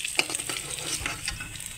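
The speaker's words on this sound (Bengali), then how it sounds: "সেই মাছগুলো একইভাবে ভেজে নেব" Small chanda fish fry in hot oil, a close, steady crackling sizzle with a few sharp pops and stirring sounds, brief and without any talk.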